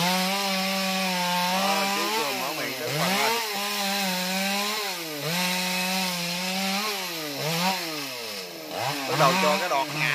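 A chainsaw drones steadily at close range, its pitch dipping and rising as the blade bites into the wood of a jackfruit tree, with no voices.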